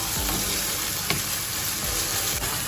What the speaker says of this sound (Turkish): kavuracağız biraz. Sürekli karıştırıyorum arkadaşlar yanma olmasın diye.